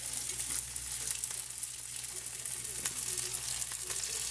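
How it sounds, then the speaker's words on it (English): Pork chops sizzle and fry steadily in a hot pan, a continuous crackling hiss with small pops, close and moderately loud, without talk. "get my second two chops right into the same pan. Should be nice and sizzling hot"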